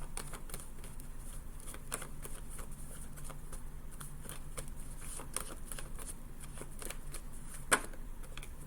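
Tarot cards being shuffled give a soft, steady riffling patter that continues throughout, faint and close with no talk over it, and a single sharp click near the end.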